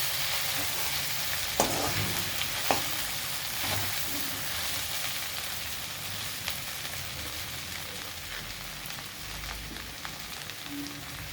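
Okra curry sizzling steadily in a pan while being stirred and scraped from the bottom, a continuous close hiss with occasional soft knocks of the spoon.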